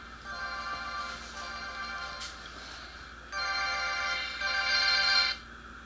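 A mobile phone ringtone plays in bursts of bright repeating electronic tones, quiet and then growing louder near the end, recorded during an ECU flash reinstall on a Kawasaki ZX-10R motorcycle.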